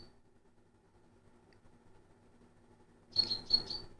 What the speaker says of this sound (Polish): Jestem ciekaw, czy będziecie słyszeć ptaki.